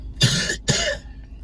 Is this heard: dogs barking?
no